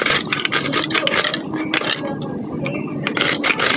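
Garlic cloves rubbed against a kitchen grater, a rapid series of close, dry rasping scrapes in short bursts with brief pauses between strokes.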